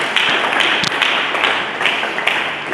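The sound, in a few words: church congregation applauding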